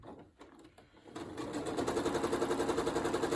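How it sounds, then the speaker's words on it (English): A sewing machine stitching a seam on a traditional log cabin quilt block, starting with a few slow, separate clicks, then speeding up into a steady, rapid, close rhythmic whir. "Bring it over here and sew."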